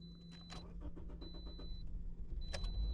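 A 2013 Toyota Corolla with a crank-no-start fault cranks in quick rhythmic bursts before catching, faint and close, with an electronic tone beeping intermittently over a steady low hum.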